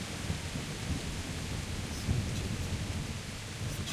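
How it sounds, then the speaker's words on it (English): Heavy rain pours steadily in the video game Kingdom Come Deliverance, a dense constant hiss with low rumbling thunder beneath it, faint overall and without talk. "It's raining freaking hard"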